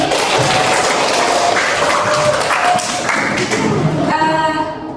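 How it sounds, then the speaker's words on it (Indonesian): Audience clapping hands together in a dense, steady wash of applause that holds for several seconds before thinning near the end, with a few voices mixed in. "Tepuk tangan dulu dong."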